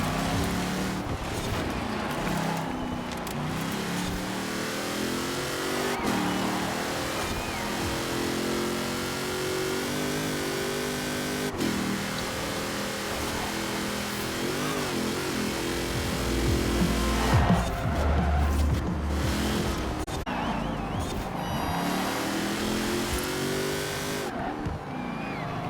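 A massive heavy dually truck's engine drones while driving and cornering, a sustained mid-level roar with shifting pitch as it accelerates and eases off, plus occasional rougher bursts of revving.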